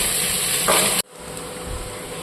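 Potatoes frying in white oil in a home kitchen pan give a loud steady sizzle, briefly rising then dropping suddenly before settling into a quieter sizzle, without talk.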